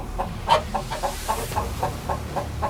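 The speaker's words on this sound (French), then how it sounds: "Regardez, même la poule, elle confirme ce que je dis." A hen clucks in a quick, repeated series of short calls, close and fairly loud against a low background rumble.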